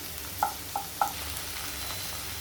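Okra fries with garlic in a pan as a soft, even sizzle, broken by three short ringing clinks in quick succession.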